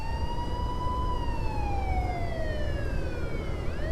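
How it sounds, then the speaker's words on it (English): A police siren in the video game American Truck Simulator wails nearby, its pitch sweeping slowly downward over a steady truck engine rumble. "Sirens behind me again."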